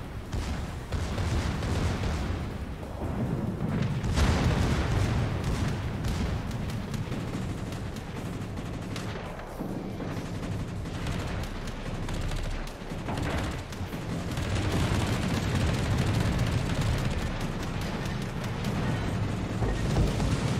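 Warship secondary guns firing in World of Warships: rapid, overlapping booms in a continuous dense barrage, loud and sustained throughout with no pauses.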